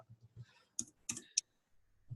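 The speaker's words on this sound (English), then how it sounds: "I'm finishing typing that so we have a document" Keys on a computer keyboard click in a short, uneven burst of taps, close and fairly quiet, during an online video chat with no talking.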